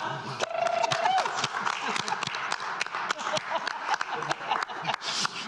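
Scattered clapping from attendees at a Zebulon town board special called meeting, uneven bursts of hand claps mixed with people talking in a room.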